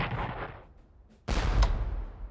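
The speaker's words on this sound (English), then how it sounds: "Let's fire with the artillery here on Alexandria" A Civil War artillery salvo fires in the strategy game Strategic Command American Civil War, aimed at Alexandria. A fading rumble is followed by a sharp, loud cannon boom that rolls on through the end.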